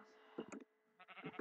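Sheep in the Minecraft video game bleat in two short, quiet bursts, the first near the start and the second toward the end, with a brief silence between them.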